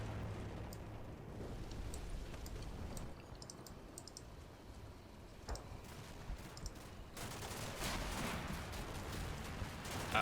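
Battlefield gunfire in the military strategy game Combat Mission Black Sea, including a .50 cal Humvee, with rapid distant bursts and crackling shots over a steady rumble, growing denser toward the end.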